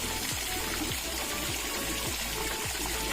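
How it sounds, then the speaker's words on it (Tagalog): Water pumped into a backyard concrete fish pond pours and splashes steadily and close by, with a continuous trickling, gushing wash and no voices. "Ayan po ay galing sa pump. Water pump lang po."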